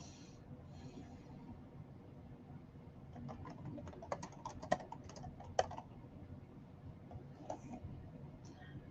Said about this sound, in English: So let's come in and type our text now.